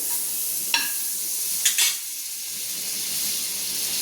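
Butter sizzles on a hot griddle while a bread sandwich cooks, a steady soft hiss broken by two brief crackling bursts near the start.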